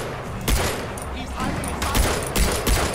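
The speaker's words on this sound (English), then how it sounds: "人家狙击我了！" Gunfire in the Far Cry 4 video game, dense overlapping bursts and sharp cracks across a noisy, chaotic fight, loud throughout.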